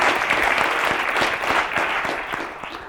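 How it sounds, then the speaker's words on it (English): An audience at a talk on stroke and frailty applauds a volunteer participant, with a sustained burst of clapping that is fairly loud at first and then thins slightly as it tapers off. "So please give him a round of applause for participating."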